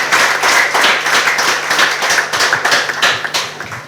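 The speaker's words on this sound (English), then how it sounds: "One more round of applause for Patience." An audience claps at a school leadership event, steady, dense applause with sharp hand claps throughout, tapering slightly toward the end, with no voices over it.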